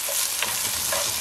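Food fried in a little oil in a pot is stirred with a utensil while it sizzles close up, with soft scraping strokes over a steady hiss.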